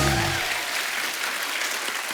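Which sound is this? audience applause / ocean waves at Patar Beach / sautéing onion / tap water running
audience applause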